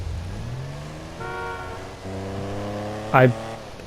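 The Benefactor Stirling GT classic sports car engine in GTA Online drones and rises through gear changes, with a short, sharp horn-like toot near the end.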